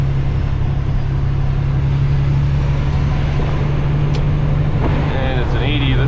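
A truck's engine brake roars loud and steady beneath a bridge, a constant low, droning rumble with traffic noise mixed in and a brief rattle near the end.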